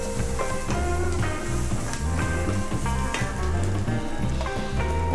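Chillies sauté in hot oil in a pan for Bombay chutney, a dense and steady sizzle close up, with light stirring scrapes through it and no speech.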